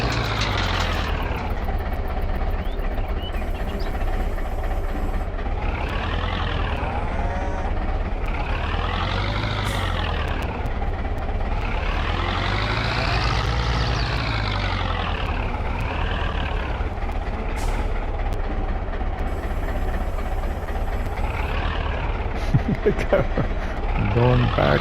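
A farm vehicle with rear steering, driven like a combine, reverses in Farming Simulator 22, its steady engine drone rising and falling in pitch over a low rumble, with talk throughout.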